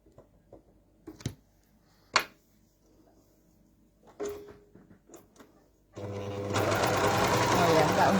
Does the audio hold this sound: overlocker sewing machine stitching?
yes